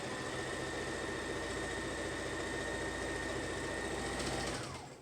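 A sewing machine runs steadily, stitching a seam in fabric for a face mask, with a continuous fast mechanical whir that holds even and close before stopping abruptly at the end.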